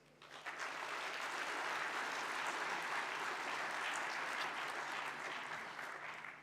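Conference attendees give a sustained round of applause, a full, even wash of clapping that swells in quickly and fades slightly near the end.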